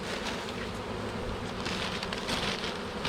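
Honeybees buzzing while being installed into a wooden hive, a continuous close, even drone with faint wind noise and no voices.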